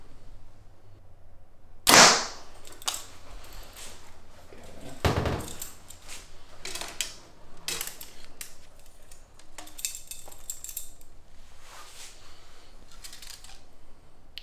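A Mathews V3X 33 compound bow is shot indoors: a sharp, loud release snap followed by a softer thump and some fainter handling clicks and rustles, with no talking.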